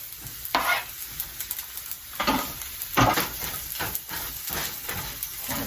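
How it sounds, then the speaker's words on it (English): Onion and tomato sizzle and fry in a pan for Mexican rice, with steady hissing and bursts of scraping as they are stirred in, close and fairly loud with no talk. "I'm going to add the onion and the tomato"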